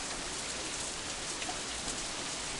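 Steady rain pours down in Katawa Shoujo, a dense, even hiss of drops on surfaces with no voices over it.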